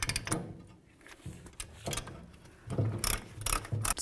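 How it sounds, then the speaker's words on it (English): A brake caliper piston on a 2002-09 Dodge RAM 1500 is pushed back in, giving ratcheting mechanical clicks and creaks in short bursts at close range, with no talking. "So now we're just going to push in our caliper piston so it's all the way bottomed out."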